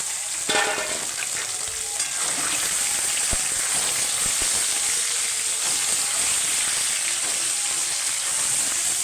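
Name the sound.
chicken pieces frying on browned onions in a pan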